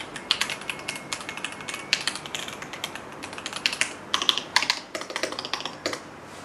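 Rapid, irregular typing on a mechanical keyboard fitted with Jasmine EC V2 switches, a steady patter of crisp, close keystroke clicks with small bursts and brief pauses, no voices.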